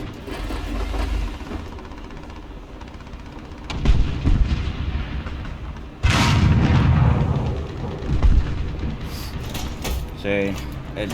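Tiger I tank cannon shots in a video game land as heavy booming blasts, two sharp loud reports a few seconds apart over rumbling engine noise and mechanical clanks, with a player talking throughout.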